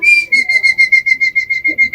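A whistle is blown in a rapid series of about a dozen sharp, loud, shrill pips, evenly spaced and close, with no talking over it.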